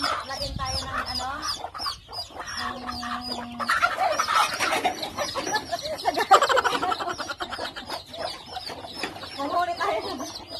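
Farm chickens cluck and squawk in agitation as they are chased and caught, the flustered calls repeating close by with shuffling and movement throughout and voices talking at times.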